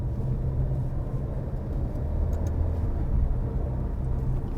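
An Alfa Romeo Stelvio 2.0 drives in manual mode with a steady low engine drone and road rumble from inside the cabin; no distinct gear change stands out, and nobody speaks.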